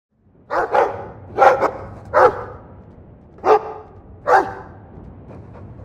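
A dog in Dragon Age II barks in five sharp, separate woofs spaced about a second apart, close and clear, with a few fainter yips trailing at the end and no talk.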